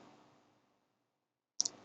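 A computer mouse gives a quick double click on a quiet desk after a fading background hum, sharp and close against near silence.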